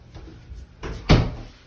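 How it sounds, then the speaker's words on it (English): Someone closes a bathroom door in a modern farmhouse, with a soft swing and then a firm, close thump as it shuts. "So you close the door,"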